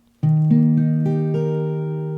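An A-shape barre chord is strummed on guitar and then restrummed several times in steady succession, each string ringing out clearly with a full, sustained tone.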